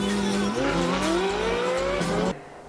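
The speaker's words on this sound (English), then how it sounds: "I do have footage actually of racing the Scuderia versus the 458" Ferrari Scuderia racing against a Ferrari 458: a loud, close engine note climbs steadily in pitch under acceleration, with raspy tire squeal, before cutting off sharply near the end.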